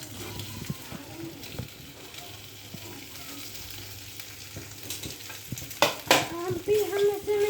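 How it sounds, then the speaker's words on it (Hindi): Cut potatoes frying in a pan, a steady low sizzle with stirring scrapes, then louder clattering and a brief burst of sharper sizzling near the end, no voices. "फिर इसमें कटे हुए आलू डालिए।"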